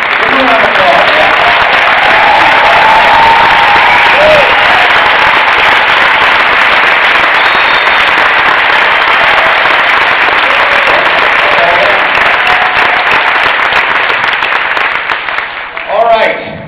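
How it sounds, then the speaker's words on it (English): A large audience at a 2008 Zurvita business conference breaks into loud, sustained applause, dense and roaring like rain, filling the hall steadily for over fifteen seconds before tapering off at the end. "Give them a round of applause"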